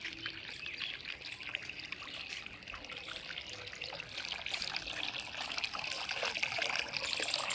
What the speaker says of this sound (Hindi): हमारा बोर दिखाते हैं जिसके अंदर मोटर चल रही है।